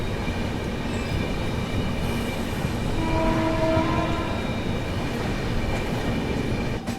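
The Sabarmati Express comes up from behind to overtake, a steady heavy rumble of rail traffic heard from inside a moving train, with a faint horn tone partway through and no voices.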